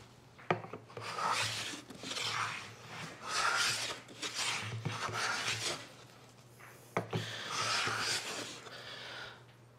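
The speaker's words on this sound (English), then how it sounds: "And now we smooth. And a nice, easy shavings." A wooden hand plane smooths a board, taking thin shavings in repeated rasping strokes of about a second each, close and moderately loud, with brief pauses between passes.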